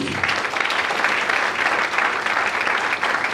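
A church congregation applauds the Lord during a French-language worship service, a steady, dense wall of clapping that stays loud and even for a few seconds, with no voices rising above it.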